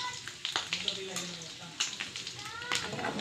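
Pork humba sizzles and spits oil in a pan, a steady frying hiss broken by sharp crackling pops and splatters, with faint background noise.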